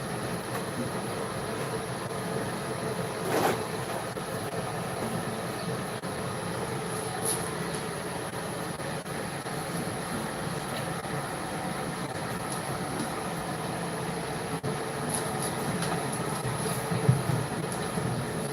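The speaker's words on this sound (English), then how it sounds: "That's my fan running right now." Steady broadband whir of a fan running continuously in the background, with a few faint clicks and knocks, no voices.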